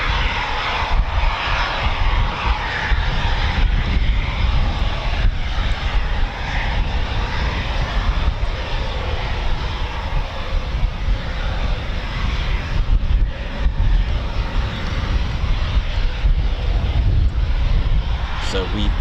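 Eurofighter Typhoon FGR4 jet roaring past at RAF Coningsby, a loud sustained broadband engine rumble that holds steady for the whole stretch, with crowd voices faintly beneath.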